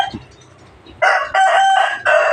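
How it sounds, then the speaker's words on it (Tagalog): A rooster crows once, loud and close, its call broken into three bursts after a moment of quiet background. "maririnig mo dito mga manok"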